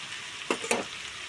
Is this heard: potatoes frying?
yes